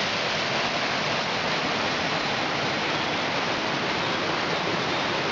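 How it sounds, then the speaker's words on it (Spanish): The Hervidero waterfalls pour in a steady, dense roar of rushing water, loud and unbroken throughout, with no voices. "Estoy viendo las cascadas del Hervidero"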